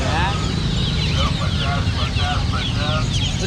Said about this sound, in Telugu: దీన్ని బుల్బుల్ కోళ్ళు అంటారు